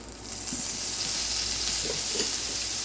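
A heaping tablespoon of minced garlic frying in a pan, a steady bright sizzle with a few soft stirring clicks and scrapes, close and continuous with no voices.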